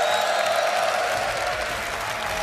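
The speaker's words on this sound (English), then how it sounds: "We've got a raucous crowd" A lively crowd at a live Age of Empires 2 tournament semifinal, Red Bull Wololo Londinium, claps and cheers in a loud, dense, continuous burst of applause that stays steady throughout.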